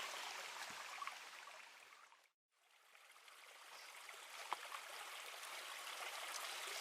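A creek flows with a continuous bright rush of water, broken once by a brief near-silent gap before the burbling resumes at the same level, with no voices.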